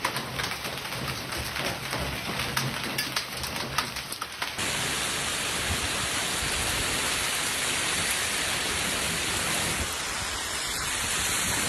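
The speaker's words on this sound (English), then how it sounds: "Heavy rains are hitting some areas." Heavy storm rain pours down in Belgium, a dense, loud continuous roar of water drumming on surfaces that shifts partway through to an even, slightly steadier downpour hiss.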